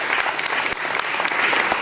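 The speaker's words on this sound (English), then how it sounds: "Give a round of applause to" A crowd at a community candidates and issues forum breaks into steady applause, a dense, continuous clatter of many hands with occasional sharper claps standing out, and no talking over it.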